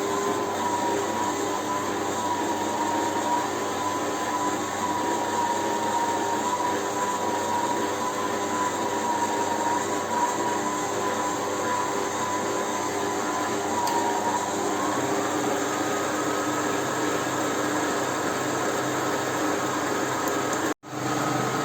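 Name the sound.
electric mixer whipping génoise batter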